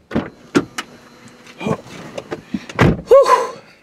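Someone climbs into a car on a cold, foggy night: a series of close thumps and rustles of getting in, then a solid car door slam near the end, with a short voice sound just after.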